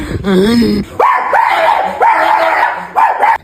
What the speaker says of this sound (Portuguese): Cala a boca, cachorro desgraçado.